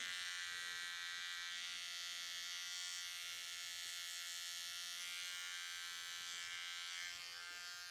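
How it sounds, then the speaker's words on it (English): An electric hair trimmer runs continuously for a skin-fade lineup at a barber's chair, a loud, steady high-pitched buzz with no pauses or talk. "now we're gonna jump on our trimmer"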